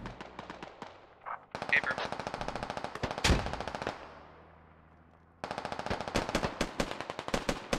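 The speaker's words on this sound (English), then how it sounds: "Hong P taking shots at Stalker." Rapid bursts of machine gun fire in a tactical video game, close and crisp, with a loud blast in the middle and a short pause before the rattling resumes.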